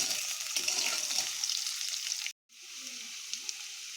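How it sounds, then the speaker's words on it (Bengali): Sliced potatoes fry in hot oil with a steady, bright hiss and crackle that cuts out for a moment, then returns quieter. "এতে দিয়ে দেবো কেটে রাখা আলুগুলো। আলুগুলো আমরা হালকা করে ভেজে নেব।"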